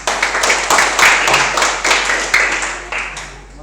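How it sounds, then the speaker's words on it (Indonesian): A classroom of students claps in a loud, close patter of applause that rises, holds and then tapers off, with a few faint voices underneath. "berikan tepuk tangan dulu"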